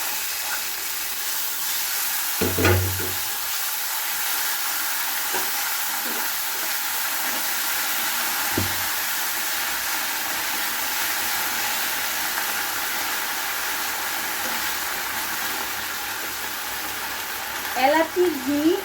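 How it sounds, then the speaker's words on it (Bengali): Chhana frying in melted sugar in a pan gives a steady broadband sizzle that holds throughout, with a thump as it goes in near the start and a voice entering at the end. "চিনিটা বেশি গলতে হবে না, এর ভিতরে আমি দিয়ে দেব ছানাটা"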